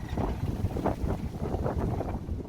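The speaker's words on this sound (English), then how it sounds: "You can tell it's a windy day." Wind gusts buffet the microphone aboard a Catalina 42 sailboat on a windy day, a continuous low rumbling roar pulsing in strength for a few seconds.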